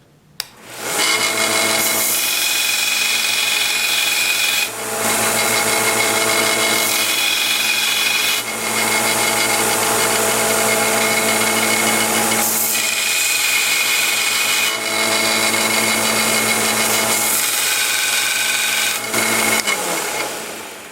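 A Vevor 1x30 belt sander whining steadily while a lathe chisel is sharpened on the moving belt, loud and close, with repeated grinding passes that rise and dip as the steel is pressed on and lifted.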